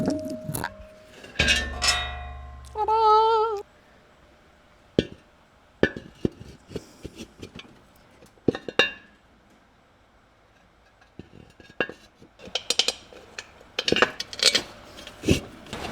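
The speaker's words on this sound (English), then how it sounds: "Now we're gonna take the bell housing off of that plate and we'll throw it on the transmission" A Ford C4 transmission bell housing lifted off a plate and set onto the transmission, with scattered metallic clanks, knocks and ringing taps of different sizes, some loud and close, spread irregularly over a quiet workshop background.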